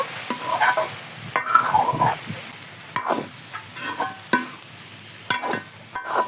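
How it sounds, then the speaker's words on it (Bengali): Turmeric, chili powder and roasted spice powder stir-fried in a pan for a fish-head and Malabar spinach dish, with repeated spatula scrapes and clinks over a soft, steady sizzle, close and moderately loud, no talking. "খুব ভালো করে কষিয়ে নিব।"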